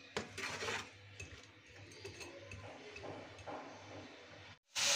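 Hilsa fish heads being stirred and sautéed with salt in a pan, with intermittent scraping and clinks of a spatula against metal over a soft background sizzle, close and fairly quiet.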